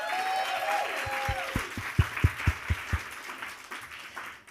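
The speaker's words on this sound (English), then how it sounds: "Let's give them a round of applause." Students and campus directors at a student pitch competition applaud. A tonal sound at the start gives way to a run of distinct, rhythmic claps over a broad crowd wash, which then fades.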